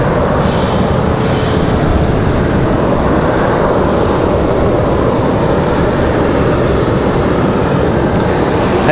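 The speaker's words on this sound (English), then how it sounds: "So we got 3 departures, 3 Airbuses getting ready" Airbus airliners depart at Raleigh-Durham International Airport, their jet engines a loud, continuous, close roar that stays even throughout, with no talking.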